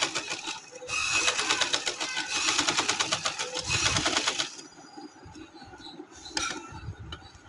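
A sewing machine stitches a neckline on a summer garment, its needle running in a fast, dense, steady rattle for several seconds before stopping, then starting again in a short burst.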